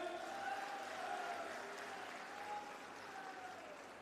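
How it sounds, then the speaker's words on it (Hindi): A large crowd at a political rally in Shivpuri applauds steadily and fairly faintly, a sustained wash of clapping heard from a distance with no voices standing out. "अगर आप सहमत हो तो ताली बजाओ।"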